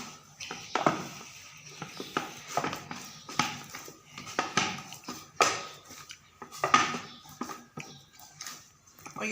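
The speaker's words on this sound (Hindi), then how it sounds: "और ये बहुत अच्छे तरीके से ये आटा गूंद रहा है। ये देखें बर्तन के साथ बिल्कुल नहीं चिपक रहा।" Dough for chicken mayo paratha rolls is kneaded in a bowl, giving repeated irregular knocks and scrapes of the dough and hands against the vessel, with a voice speaking intermittently between them.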